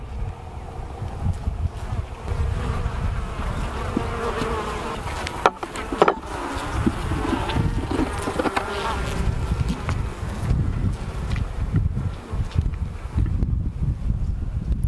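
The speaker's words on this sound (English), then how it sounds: "There's a lot more bees on this one" Many honey bees buzzing on a hive frame during a beekeeping inspection, a dense, continuous droning hum held close and steady throughout, with light wind noise in the background.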